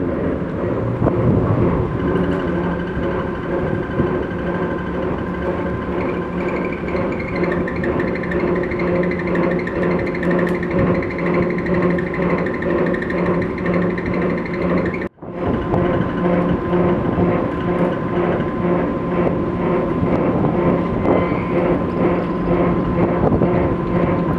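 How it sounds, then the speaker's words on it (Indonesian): A ferry crossing from Bali to Java lowers its ramp door with a steady, loud mechanical drone and rumble under wind noise, continuous apart from one brief dropout partway through. "Pintu mulai diturunkan."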